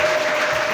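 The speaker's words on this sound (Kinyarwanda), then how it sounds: "Amashyi menshi cyane." Clapping from a congregation at a church wedding, a brief, dense burst of many hands applauding together at close range.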